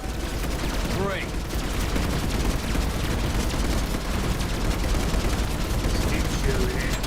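Dense, continuous gunfire from a Mass Effect 3 firefight near an elevator and shuttle dock, a loud unbroken barrage of shots and impacts with no pauses.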